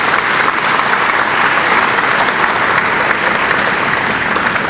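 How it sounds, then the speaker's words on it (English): Loud, sustained applause from an awards gala audience, a dense, even wash of many hands clapping close up, with no pause. "Big round of applause for all our VIPs"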